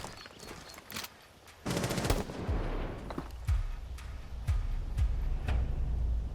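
Gunfire in Rainbow Six Siege, with sharp close shots and a brief rapid burst followed by scattered single cracks and thuds over a steady game ambience, no talking.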